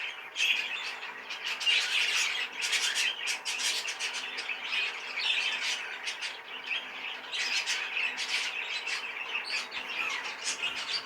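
Short squawking calls and chirps from a hen bird perched near a garden shed in October, repeated in quick bursts at moderate volume, with no voices.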